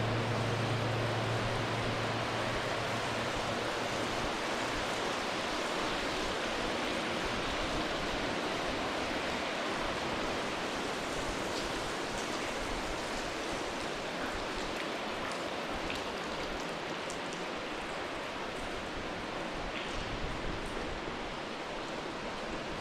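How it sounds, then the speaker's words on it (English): Water running down the walls of a rail-trail tunnel on the Route of the Hiawatha in northern Idaho, a constant rushing hiss like a waterfall, steady and fairly loud throughout with no talking. "There were some areas where it sounded like a waterfall."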